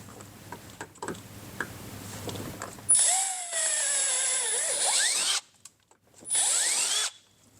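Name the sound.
drilling through a Polaris RZR fender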